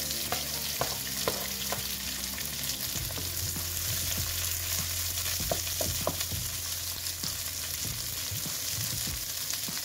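Cucumber stir-frying in a pan, a steady close sizzle with scattered clinks and scrapes of a spatula stirring throughout, and a low hum underneath.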